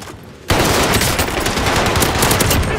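Rapid automatic gunfire in a first-person shooter video game bursts in suddenly and continues as a dense, loud, continuous volley with no speech.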